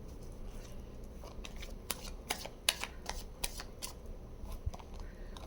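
Tarot cards are shuffled and handled close up, a quick run of crisp flicks and snaps that builds into several sharper riffling bursts, fairly quiet with no voice over it.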